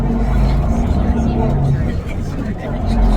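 Bus riding through a town near a cruise port in Sokcho, South Korea, giving a loud, steady low engine and road rumble inside the cabin, with a brief dip in the middle before building again.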